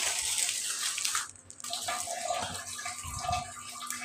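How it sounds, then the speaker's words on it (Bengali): Fruits are rinsed under a running tap, a steady hiss of flowing water with splashes as the pieces are handled, close by; the flow briefly drops out about a third of the way through, then resumes. "এই যে ফলগুলি আমি ধুয়ে নিচ্ছি।"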